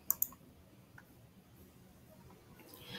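Two sharp computer mouse clicks near the start while opening an image in an online photo editor, followed by faint, quiet background hiss.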